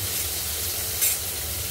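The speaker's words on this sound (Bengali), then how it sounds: "তো চলো পেঁয়াজ টমেটোটা ভাজা ভাজা হচ্ছে" Onions and tomatoes sizzle in a hot pan, a steady close frying hiss with a brief stir or spatter about midway, and no voices.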